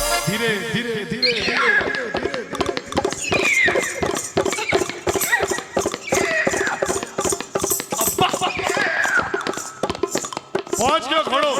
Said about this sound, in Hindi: ये घोड़ा क्या घोड़ा क्या आवाज निकाले